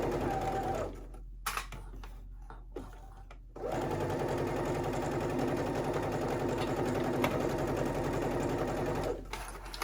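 A sewing machine hums steadily as it stitches, with a brief pause near the start before running continuously.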